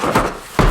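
A cardboard box is shaken twice, loose contents thumping and rattling inside in two short, close bursts.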